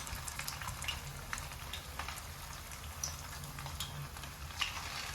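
Sea bass fish balls filled with kashar cheese fry in hot oil in a pan, a quiet steady crackling sizzle with scattered small pops throughout, no voices.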